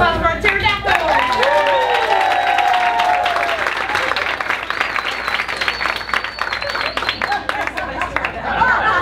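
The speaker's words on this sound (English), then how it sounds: "A round of applause for our pterodactyls." Applause from a summer institute audience for a group's final presentation, a steady wash of clapping with crowd chatter and whistling tones layered over it, fairly loud throughout.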